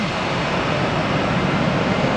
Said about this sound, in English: Well, the motors, the engine's started now.